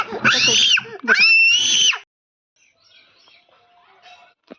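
A child lets out two loud, shrill screaming shouts close by, then things go quiet apart from faint background noise.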